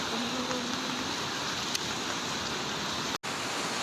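Heavy rain falls as a quiet, even hiss of steady downpour, unbroken apart from a brief dropout near the end, with no one speaking.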